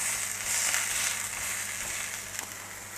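A smash burger patty is pressed with a spatula into a lightly oiled cast iron pan, giving a loud, steady, hissing sizzle that holds throughout, close up and alone.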